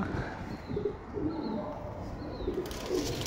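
Soft, low coos from Madras pigeons repeat several times in a murky outdoor background, fairly close and moderately quiet.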